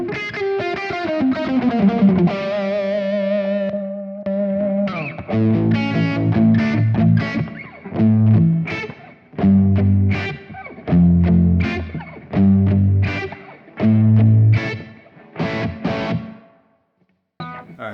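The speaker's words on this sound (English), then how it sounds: "that's just a plate reverb that I have set up" Electric guitar through a Kemper Profiler with plate reverb, first sustained ringing chords and notes with a long tail, then rhythmic distorted chugging bursts separated by short gaps, ending in silence.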